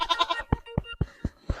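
A goat gives one wavering bleat, then a rapid run of short, sharp, close thumps or clicks follows at a steady pace.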